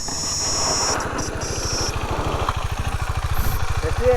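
A KTM 390 Adventure motorcycle idling nearby with a steady, rapid low thump from its engine, rising slightly toward the end, with faint voices and background noise.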